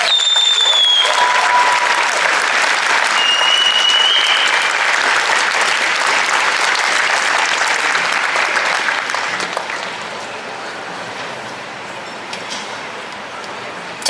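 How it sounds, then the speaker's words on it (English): A crowd at an outdoor Nakba rally breaks into loud, sustained applause that fills the scene and slowly thins toward the end, with no speech over it. "Can we have another round of applause,"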